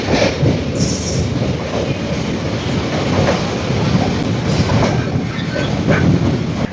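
A passenger train runs at speed on the rails toward Punalur in Kerala, heard from on board as a loud continuous rumble with rhythmic wheel clatter, faint squeals and occasional clicks throughout.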